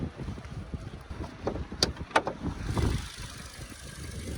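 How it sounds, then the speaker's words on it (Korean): A Genesis G80 engine idling quietly, a low steady hum and faint rumble with a brief louder swell midway, heard alone and not very loud. "엔진 이음이라고 할 정도의 뭐 소리가 나지 않거든요"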